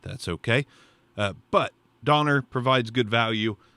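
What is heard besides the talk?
No everyday noise stands out behind the speech.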